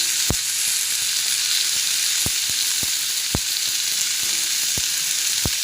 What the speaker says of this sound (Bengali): এবার কচু শাকটাকে ভালো করে নেড়ে নিই